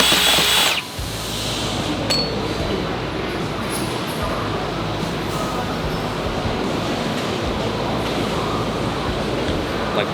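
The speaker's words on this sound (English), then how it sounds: "why are you drilling in a shoulder mount?" A power drill bores into a taxidermy shoulder mount, starting with a brief high whine and then running as a continuous, loud, grinding drone that holds steady for about nine seconds, close up.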